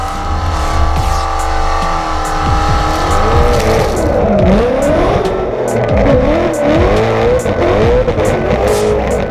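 Ford Mustang Shelby GT500 tires squealing while drifting on a motorsport course, loud wavering screeches over a roaring, revving V8 engine, close and continuous with rising and falling pitch.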